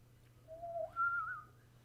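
A person whistles a short, clear two-note phrase, rising in pitch, alone and close in a quiet room.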